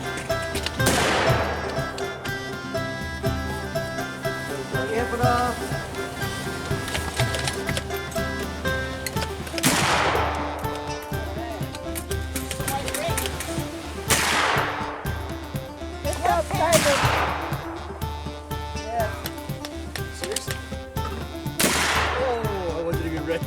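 Several 18th-century style black-powder firearms boom one at a time at a mountain man gathering outdoors, loud reports separated by seconds amid background crowd noise and clatter.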